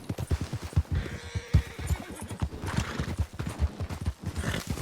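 A horse gallops through snow in Red Dead Redemption 2 during a winter endurance race, rhythmic hoofbeats pounding in steady quick succession with a brief whinny, fairly faint.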